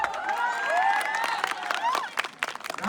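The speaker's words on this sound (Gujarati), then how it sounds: "આજે તાળીઓ પાડો" An audience at a prize event in Botad claps and cheers amid voices and shouts from the crowd, a lively burst with scattered sharper claps toward the end.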